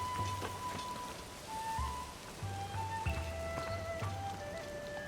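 Steady rain patters across the village of Kakariko in The Legend of Zelda: Tears of the Kingdom, a soft continuous hiss with scattered drops and faint chiming game tones, no voices.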